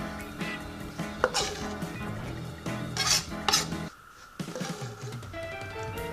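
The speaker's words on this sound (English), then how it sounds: "you get yourself a spoon, like one of these, and you just mix it all up together" A spoon mixes chopped vegetables, fresh tomato among them, in a bowl for a vegan courgette, corn, crookneck squash, mushroom and tofu dinner, giving close, steady scraping and clinking of metal against the dish with a few sharper knocks.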